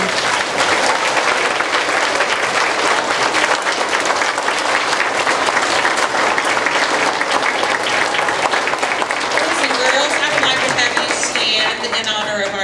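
Sustained dense applause from schoolchildren and audience honoring veterans at a program, steady loud clapping throughout that thins slightly near the end as voices and cheers rise.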